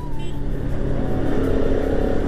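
A truck drives by on a road with a close, continuous engine roar that swells slightly, joined by a brief higher whine early on, over a steady rumble.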